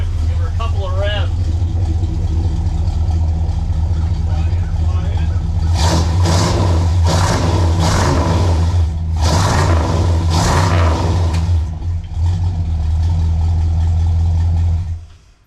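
A 1968 Plymouth Road Runner's 440 V8 with new exhaust pipes idles with a low, steady rumble and is revved several times in short bursts, with people talking over it.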